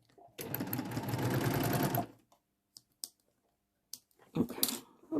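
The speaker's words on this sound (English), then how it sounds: "there's the stay stitch along the edge, that little tiny line of sewing" A sewing machine runs a fast, steady burst of about two seconds while stay-stitching along a fabric edge, slightly lengthened stitch, followed by brief clicks and handling noises, close up.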